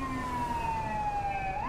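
A police siren in GTA 5 wails steadily with a sliding tone that rises at the end, over a constant engine rumble.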